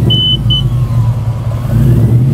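A loud car engine runs close by with a steady, heavy rumble throughout, and a couple of faint beeps sound near the start; no one speaks.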